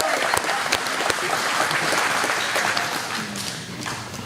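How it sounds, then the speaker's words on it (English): Graduation audience applauding steadily, a dense wash of many hands clapping at once with a few louder individual claps standing out, sustained throughout at a fairly close distance. "so let's give them a round of applause."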